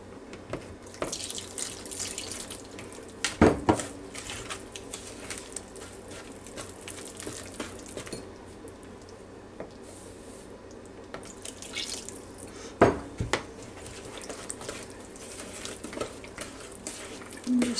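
Tap water runs and splashes into a kitchen mixing bowl holding eggs and oil for strawberry cupcake batter, a steady close faucet stream with dripping and patter, no talk.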